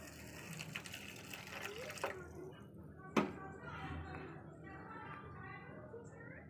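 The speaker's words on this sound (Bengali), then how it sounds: "এটা আমি অল্প জল দিয়ে একটু মিশিয়ে নেবো।" Water pours and sloshes as it is stirred into gram flour batter with salt, turmeric and cumin, a steady watery running sound with a brief knock, under quiet talk.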